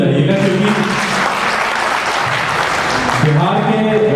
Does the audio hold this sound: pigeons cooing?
no